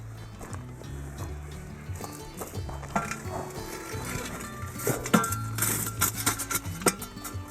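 Hot coals are lifted from a campfire and set on the lid of a cast-iron camp oven and around it, making metallic clinks, scrapes and knocks against a steady low outdoor background, with the busiest clatter toward the end.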